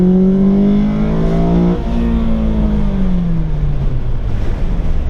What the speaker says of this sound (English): you can actually hear the air sucking in the intake